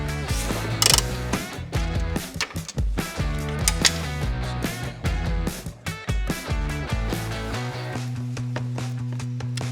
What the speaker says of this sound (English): Now I need to take off the screw here.